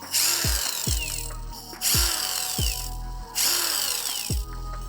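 A Pro-Craft PWA36 impact wrench, recovering after being soaked in water, runs in three loud bursts about a second apart, each with a whining motor spin-up, a sharp high rattle and a sudden stop.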